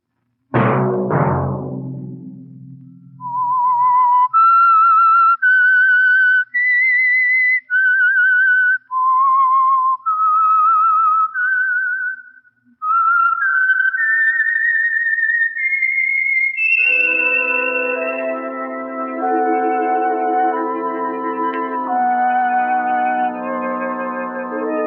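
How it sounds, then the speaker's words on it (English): A melodic whistled tune with sliding notes, clear and alone, followed by a sustained chord of instruments, the signature of a 1949 old-time radio program. "Let that whistle be your signal"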